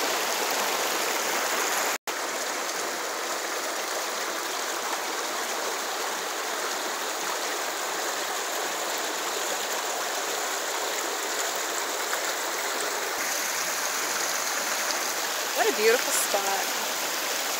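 A waterfall and brook at 5 Mile Brook in the North Maine Woods rush steadily in a loud, unbroken wash of water, with a brief voice near the end.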